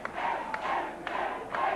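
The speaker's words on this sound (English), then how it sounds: "The crowd starting to yell, Dewey, Dewey, Dewey." Arena crowd at a classic St. Louis wrestling match, chanting and yelling in rhythmic surges with roughly one shout each half second, loud and continuous with no clear commentary.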